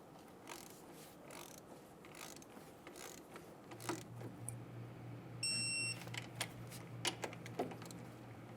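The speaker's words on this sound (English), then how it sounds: "Torque the caliper bolts to 20 foot-pounds." Torque wrench clicking and ratcheting as the brake caliper bolts of a 2010-2014 Subaru Outback are tightened to 20 foot-pounds, with faint scattered mechanical clicks and a low hum in a quiet garage, plus a brief electronic beep.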